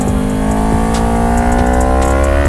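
A Kawasaki Ninja 400 motorcycle laps the Capuava race track, its engine loud and close in a steady high-revving whine, pitch climbing smoothly as it accelerates.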